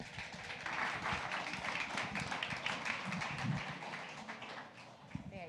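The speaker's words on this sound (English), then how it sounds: "Round of applause for Deanne." An audience at a Central Oregon pub talk claps steadily for several seconds, a dense roomful of applause with voices mixed in.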